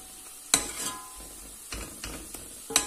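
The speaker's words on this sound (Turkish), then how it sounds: "ocağın altını en kısıkta tutuyoruz ve 2-3 dakika boyunca şöyle hamurumuzu güzelce karıştırıyoruz" A spoon stirs choux pastry dough in a pot on the stove over low heat, giving a few sharp scrapes and knocks against the pot between quieter, soft mixing sounds, close by.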